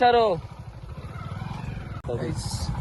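A motorcycle engine chugs steadily at low pitch while people talk over it nearby.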